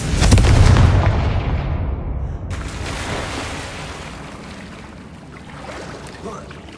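A Confringo blasting spell goes off in Hogwarts Legacy with a loud, close, booming burst that rolls into a rumbling tail and fades, followed by a sharper secondary crackle and a long decaying wash of game ambience.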